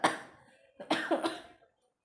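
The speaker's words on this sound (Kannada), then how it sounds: "ಅಷ್ಟು ಕೆಮ್ಮು ಹಿಡ್ದೈತಿ" Two bursts of coughing, the second a rough double cough, close to the microphone with a quiet pause between them.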